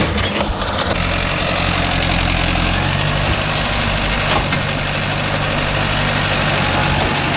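A Mahindra 605 DI tractor drags a rotavator across old fodder ground, its diesel engine giving a steady, loud, low rumble that holds throughout without any talking.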